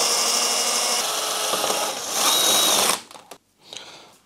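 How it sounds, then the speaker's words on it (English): A power drill bores a hole through a BMW E30 gauge cluster, a loud steady whine held for about three seconds before it stops, followed by brief clicks and handling noise. "so I will drill hole for the rest of the wires here."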